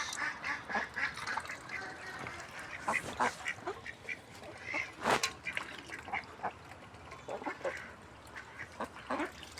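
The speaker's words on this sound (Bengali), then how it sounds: "নতুন পাতি হাঁস এইগুলো নতুন পাতি হাঁস" Ducks quack repeatedly and close by, several birds calling over one another in an irregular, busy chorus with no talking.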